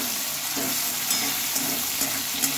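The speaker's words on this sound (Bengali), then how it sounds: "টমেটো, পেঁয়াজ এগুলোও কিন্তু একটু বেশ ভালোভাবে আমি ভেজে নিলাম।" Tomato and onion frying in a pan give a steady, dense sizzle with faint crackles and occasional stirring scrapes, close and continuous with no talking.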